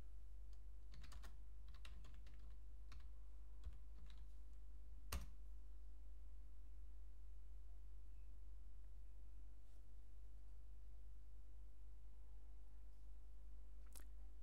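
Keystrokes on a computer keyboard as a command is entered: a short burst of quick clicks near the start, then a few isolated taps spaced out over a low steady hum in a quiet room.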